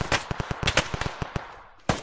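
Gunfire in the video game ARMA 3 during a river-crossing firefight: a rapid string of sharp cracks and shots in irregular bursts, loud and close, with a brief lull before one last heavy report.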